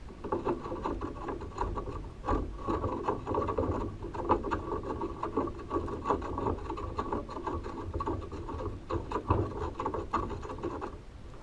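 A metal seat adjustment bar is screwed into the frame of a Schwinn 270 recumbent exercise bike, giving a steady scraping, rubbing rasp with faint ratcheting clicks, close and continuous with no talk.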